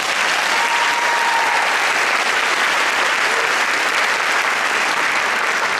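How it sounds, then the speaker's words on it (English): Dense, sustained applause fills a university commencement ceremony hall, loud and even from start to finish with no pauses. "Please give Sean a round of applause."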